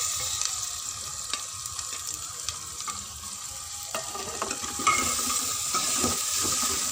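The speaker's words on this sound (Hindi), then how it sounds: "अब मैं इनमें ये टमाटर शामिल कर रही हूँ।" Tomatoes go into onions frying in a pan, with a steady sizzle that swells after a few seconds as they are added. Scattered spatula scrapes and clinks are heard close up, with no talk.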